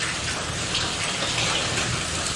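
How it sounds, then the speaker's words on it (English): A kitchen tap runs in a steady, full stream, a continuous close splashing rush with no talk over it while roasted ingredients are being peeled. "I feel like it makes it a little easier to have a little bit of running water going."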